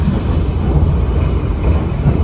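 Loud, steady low rumble inside a moving economy-class Pasundan New Generation train carriage at about 100 km/h, crossing rail switches and joints with a continuous roar and no clear separate clacks.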